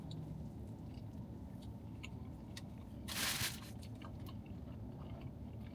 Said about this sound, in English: with the crunch from the onion rings